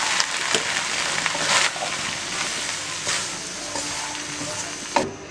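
Vegetables for noodle chaat sizzle in a hot pan while being stirred, a close, continuous frying hiss with scraping utensil strokes and a sharper clank near the end.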